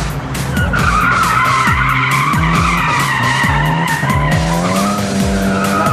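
A Smart car races on a tarmac track at an open day, its engine droning loudly up close while tires squeal and skid repeatedly through the passage.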